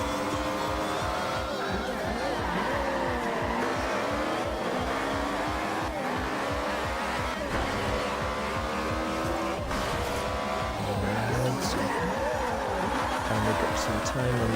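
A racing video game car roars steadily at high revs while its tires squeal and skid across the pavement, the engine loud and continuous with the skidding layered on top.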